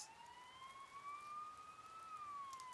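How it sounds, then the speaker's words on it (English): Faint police sirens wail with a smooth, slowly rising and falling tone, heard as if from nearby in the video game Persona 4 Golden, with a soft background hiss and no speech. "You hear sirens nearby."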